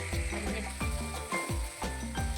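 A spatula stirs and turns beef in a hot pan for beef pickle. Rhythmic scraping strokes repeat about twice a second, close up, over a soft sizzle.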